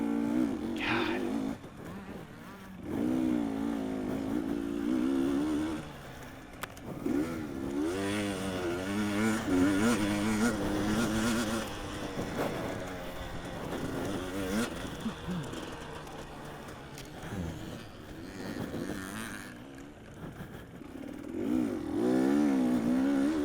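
A dirt bike engine held on light throttle during a hare scramble race at Powell Ranch, its note wavering and rising in repeated revs, loud and close, with occasional dips and wind-buffeted roughness throughout.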